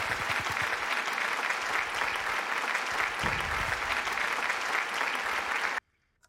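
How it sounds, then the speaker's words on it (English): Dense audience applause rolls on steadily at an even, full level, then cuts off abruptly into near silence. "Can we please get a round of applause for this gameplay?"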